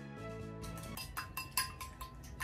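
Eggs for a cheese terrine being handled, with a run of sharp, bright clinks and taps against a bowl or shell, close and fairly quiet, several in quick irregular succession.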